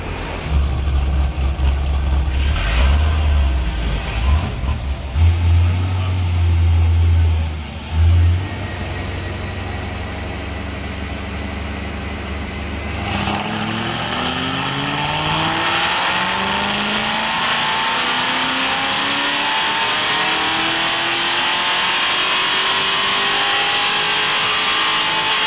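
A Hennessy HPE650 muscle car revs hard on a rolling-road dyno, engine note climbing steadily through a long sustained pull to about 6,000 RPM, loud and close with no talking.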